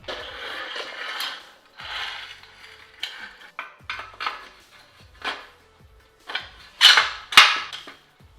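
A ratchet clicks in bursts while a swing arm is fitted to a Honda CB650 motorcycle, with short runs of sharp, close pawl clicks separated by pauses and two louder metallic snaps near the end.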